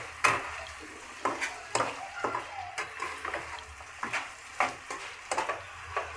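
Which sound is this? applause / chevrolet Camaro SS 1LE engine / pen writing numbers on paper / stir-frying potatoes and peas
stir-frying potatoes and peas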